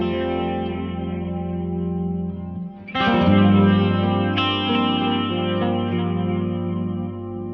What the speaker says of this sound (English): the guitar that has a very long intro that I talked about before.